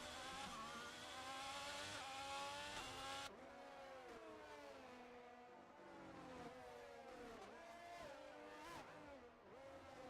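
Race cars lap Monaco's swimming pool section on a rain-soaked circuit, engines whining steadily with rising and falling pitch as they pass, loud throughout, with an abrupt drop in level partway through.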